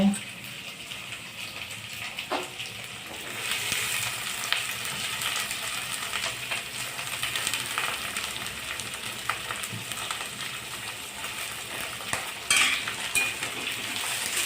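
Mixed vegetables for a Bhogi festival bhaji are stir-fried in oil, giving a continuous close sizzle broken by scraping stirs and occasional clinks of a utensil against the pan.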